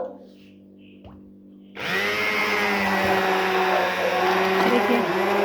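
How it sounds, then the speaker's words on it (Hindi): An electric blender blending curd into lassi starts abruptly after a near-silent moment and keeps up a loud, steady whirring motor drone with a slight drop in pitch partway through. "ये हमने ब्लेंडर लिया है, इसकी सहायता से आप इसको थोड़ा सा ब्लेंड करेंगे तो जो दही है वो भी लस्सी आसानी से बन जाएगा"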